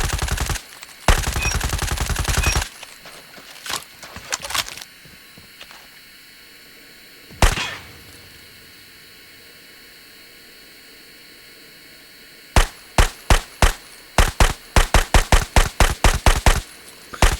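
Gunfire in COD Mobile: a sustained automatic burst near the start, a few scattered single shots, then a rapid string of loud, evenly spaced shots toward the end, with quiet gaps between.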